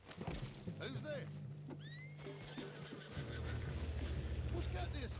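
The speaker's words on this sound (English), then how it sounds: "What's got this horse spook" A spooked horse whinnies with rising, wavering calls over a steady low rumble and soft hoof clops, fairly close and moderately loud.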